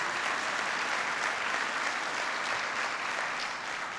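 An audience applauds for the U.S. Secretary of Agriculture at an event on the 2014 farm bill, a steady, dense wash of clapping from a large crowd that holds evenly for the full four seconds.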